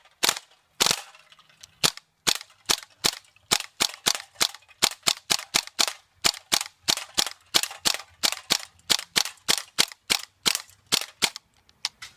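A GHK gas blowback airsoft gun fires a long string of sharp, crisp shots with a bare pause after the first two, then a steady, evenly spaced rhythm of about two to three pops per second, close and loud with no talking.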